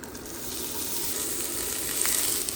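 Three to four tablespoons of oil heat in a small frying pan for Goan ambot tik, producing a steady soft hiss and faint sizzle with no speech.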